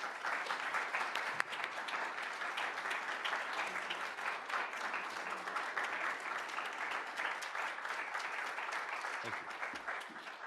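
An audience at a law lecture held at the University of Pennsylvania breaks into warm, steady applause to welcome a justice to the stage, a full roomful of clapping sustained evenly for about ten seconds before tapering slightly at the end.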